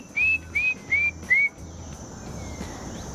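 Four short rising whistles, each a human imitation of a bird call used to lure birds, come at an even pace in the first half, followed by faint outdoor ambience with insects or crickets.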